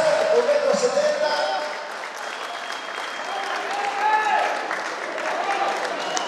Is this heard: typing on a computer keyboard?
no